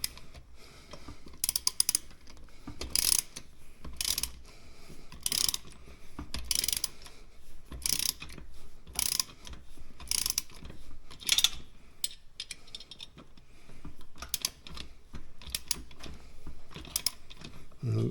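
A ratchet wrench cranks down bolts through plastic bushings while assembling an Ultra Fuego UF-1186 home gym, giving repeated bursts of quick clicking at close range, with a few short pauses between strokes.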